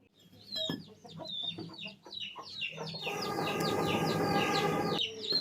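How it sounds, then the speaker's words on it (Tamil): Chickens gathering to roost in a tree at dusk call out with repeated clucks and squawks, a busy overlapping chorus that thickens midway and continues steadily, fairly close. "இப்போ கோழி ஃபுல்லாமே மரத்தில் அடையிறதுக்கு வந்துருச்சு. அதனால தான் ஃப்ரெண்ட்ஸ் இப்படி கோழி கத்திக்கிட்டே இருக்குது."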